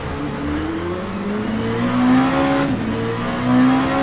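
Damaged race car in the endurance racing game Le Mans Ultimate, a loud engine drone holding a steady pitch that dips briefly and then climbs again, with tyre and road noise underneath.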